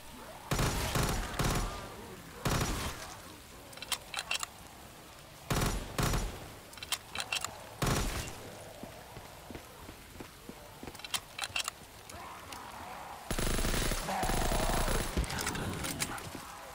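Bursts of gunfire from the video game Z-Day in a beach-storming battle: loud automatic volleys in several separate clusters, with quieter scattered shots and movement sounds in between, and no talking.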